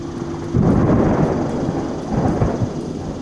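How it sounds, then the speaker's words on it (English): Thunder from a storm lingering at a distance over an outdoor cave area, a low rolling rumble that swells after a brief quiet start and keeps grumbling, loud and deep, with no talk. "that storm is just kind of hanging out over there"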